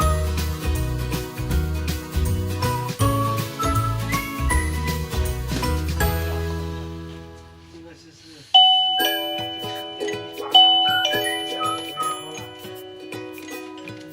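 A video doorbell sounds its electronic chime, a sequence of clear bright tones that rings out, pauses briefly, then repeats with a tinkling melody.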